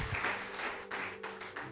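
A church congregation claps in praise to the Lord, a dense patter of hands that swells and eases in bursts over a steady low hum, fairly faint and without talk.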